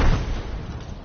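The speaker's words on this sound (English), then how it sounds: "Frag out. Throwing frag." A frag grenade blast in a video game, a loud close boom at the start that rolls off into a dense, decaying rumble.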